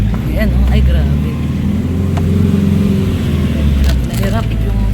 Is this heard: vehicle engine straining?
yes